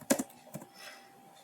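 A few quick clicks of computer keyboard keys entering commands into a Cisco switch command line, two close taps followed by a third after a short pause, then only faint room noise.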